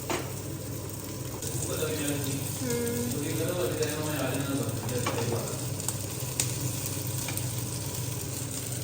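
Potato tikki fry in a pan at home, giving a steady close sizzle that runs throughout, with brief stirring or scraping sounds and some faint talk underneath.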